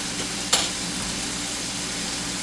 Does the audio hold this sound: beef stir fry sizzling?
yes